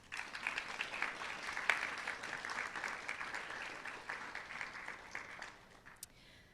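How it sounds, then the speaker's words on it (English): An audience at a high school National Honor Society induction ceremony applauds the families, a moderate, fairly distant round of clapping that tapers off after about five seconds. "Candidates, please give your families a round of applause."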